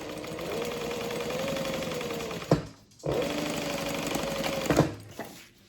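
A sewing machine stitches a backpack in two long, steady motor-driven runs with a rapid needle rattle, separated by a brief pause and a clunk, loud and close.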